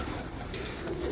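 Pigeon cooing from a rooftop pigeon loft in Multan, a soft low murmur that runs steadily through the clip under general background noise, with no talking.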